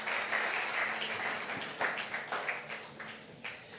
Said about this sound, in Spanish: Muy bien, denle un aplauso y tome asiento.